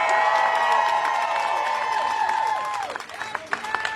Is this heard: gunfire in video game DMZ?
no